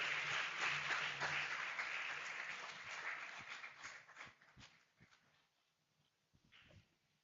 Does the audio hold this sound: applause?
yes